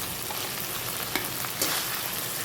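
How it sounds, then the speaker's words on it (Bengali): Ground spices, crushed garlic and dry chili paste fry in a pan, a close, steady crackling sizzle with a couple of brief stirring scrapes and no talking. "দিয়ে আমি মশলাগুলোকে কষিয়ে নিচ্ছি"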